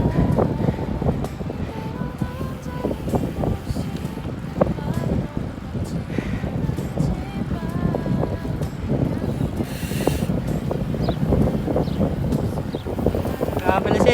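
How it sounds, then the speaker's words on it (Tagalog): Strong wind buffets the microphone on an outdoor ride, a steady rushing roar with gusty bursts, and a voice speaks briefly over it. "Mahangin guys, mahangin."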